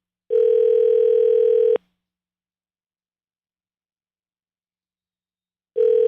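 A telephone line tone on an outgoing call during a radio show: one steady electronic ring burst lasting about a second and a half, a long silence, then the next burst starting, loud and alone.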